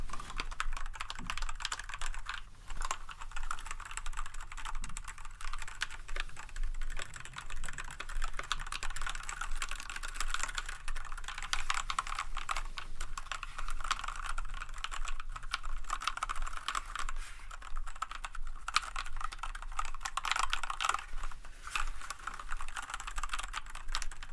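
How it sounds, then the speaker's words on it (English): Continuous typing on a clicky computer keyboard, close and quiet, with rapid, dense key clicks running steadily throughout and no voices. "You're going to love the sound of this particular keyboard."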